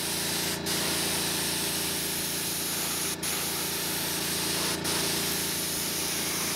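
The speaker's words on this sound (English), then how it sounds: "shoot toward the tape, Mike. And just let it overspray out onto the part just a little bit" Spray gun hissing steadily as it lays candy paint toward masking tape on a part, one continuous close airy spray broken by three brief pauses.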